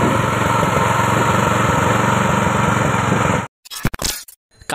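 Petrol-engine mini hand tractor tiller running steadily and loud for over three seconds, then cutting out abruptly, followed by brief clunks and handling noises in near silence.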